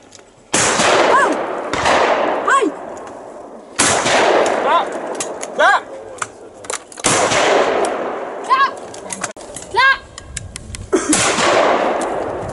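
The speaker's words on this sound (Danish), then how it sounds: "Man brænder noget skud af." Several loud gunshots ring out at irregular intervals, each a sharp close crack with a ringing tail, and a few faint voices in between.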